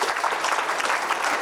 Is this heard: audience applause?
yes